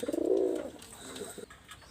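Pigeons kept as imported-blood flying and breeding birds coo close by, one loud throaty coo at the start followed by softer, fainter calls and a few light chirps.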